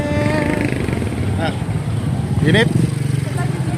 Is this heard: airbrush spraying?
no